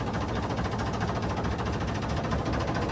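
A Sonalika 745 tractor's diesel engine idles nearby in a steady, throbbing rumble that holds evenly throughout, with no talking.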